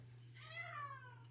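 A cat whines with one drawn-out, wavering meow rising and then falling, close and fairly quiet over a low steady hum.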